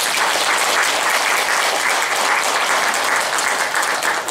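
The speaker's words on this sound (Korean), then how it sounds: "단원들에서 박수 한번 부탁드릴게요." An audience applauds members of a performing troupe at a special Buddhist chant and ritual dance performance, a dense, steady burst of many hands clapping that holds at full strength for several seconds.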